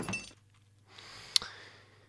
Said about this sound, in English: kind of like the glass on the table falling off